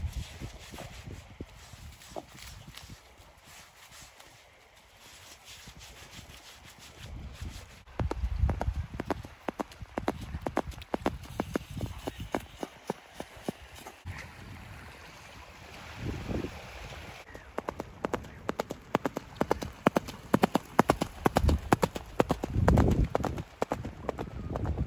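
A Fell pony's hooves clip-clop in a steady rhythm during a beach ride, the hoofbeats growing louder and more distinct toward the end over a constant windy background.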